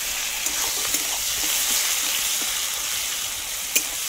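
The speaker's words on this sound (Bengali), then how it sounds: "এবার আমি দিয়ে দেবো এই তেলে টুকরো করা পেঁয়াজ দিয়ে আমি পেঁয়াজটা ভালোভাবে ভেজে নেব" Chopped onion frying in hot oil with dried chilli, cumin and bay leaf, a loud close continuous sizzle with a few sharp pops and light stirring, no voices.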